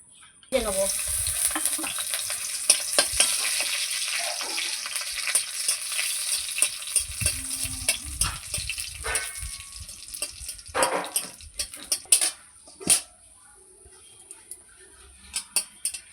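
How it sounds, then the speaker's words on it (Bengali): Dried red chillies frying in mustard oil in a wok, with a steady loud sizzle and crackle, broken by stirring and scraping and a few sharp clatters, then fading near the end. "শুকনো লঙ্কাটা আমার ভাজা হয়ে গেল, এইবার আমি তুলে নেব।"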